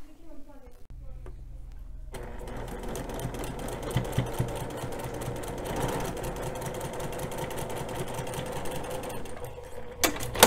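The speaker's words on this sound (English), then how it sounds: "let's go ahead and get all of those 3 parts sewn together" Sewing machine stitching three quilt block pieces together for a star center, a steady fast mechanical whir running almost the whole time after a brief quiet start, close and fairly loud.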